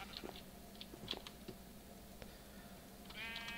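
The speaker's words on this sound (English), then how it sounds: "Hello, sheep. You are my buddy." A sheep bleats in a video game, with a short wavering cry near the end after a few soft clicks and taps, no talking.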